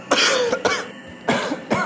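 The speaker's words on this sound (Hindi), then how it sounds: "थोड़ी सी खांसी बस" A person coughs and clears the throat in four harsh bursts, close and loud, with short pauses between them.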